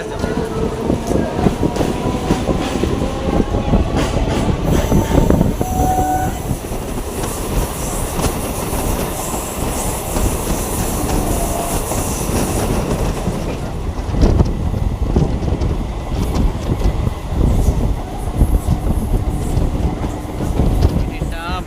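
A 12-coach train departing Masagram station on the Howrah–Bardhaman chord line rumbles and clatters continuously, loud and close, wheels rattling over the rails, with faint voices now and then.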